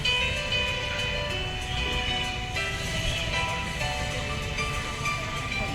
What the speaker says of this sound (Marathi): ट्रेनचं आगमन झालं आहे